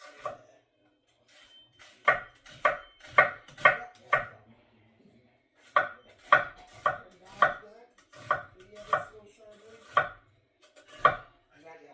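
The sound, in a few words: knife slicing an onion into strips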